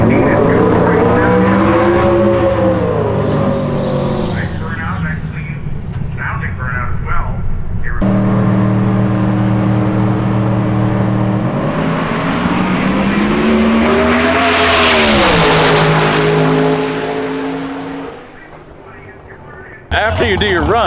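Hot rod drag race cars at Drag Week roar loudly and continuously, with engines revving up and down in long sustained pulls, one rising to a high whining peak, and a short cutoff near the end.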